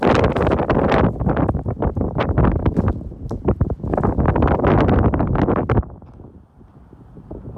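Wind blowing hard through an abandoned factory building, loud gusty buffeting close on the microphone that drops off sharply near the end.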